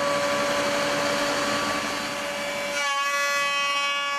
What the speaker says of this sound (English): what we'll do now with this piece of timber that he planed is go over to the router and router a profile on